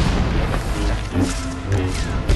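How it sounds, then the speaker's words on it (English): Missile explosion in the video game Star Wars The Old Republic, a dense booming blast with rumbling low-end bursts that stays loud and continuous through the short clip. "Missile to the face."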